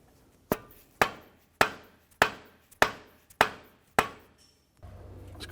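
Mallet strikes tapping a CV axle onto its shaft splines on a 2004-2008 Acura TL, seven sharp, evenly spaced metallic knocks each ringing out briefly, then a low hum.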